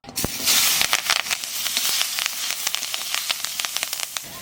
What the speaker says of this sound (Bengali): পেঁয়াজ ভাজা তেলের মধ্যে কটা লঙ্কা দিয়ে দেবো